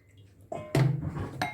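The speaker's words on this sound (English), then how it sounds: "I'll put my water," Distilled water pours into a bowl in a short splashing burst, with light clinks of dishware before and after.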